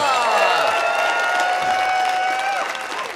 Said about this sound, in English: We get one more big round of applause for my co-host